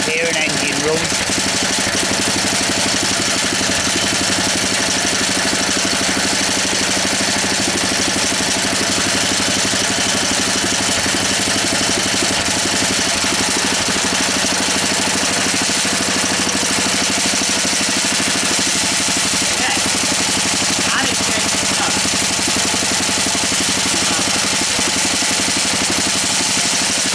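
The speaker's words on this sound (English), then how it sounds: "I know how you like to hear an engine run." A small Honda E300 petrol generator engine runs continuously at a steady idle, a constant mechanical drone with light vibration, and a voice speaks briefly over it.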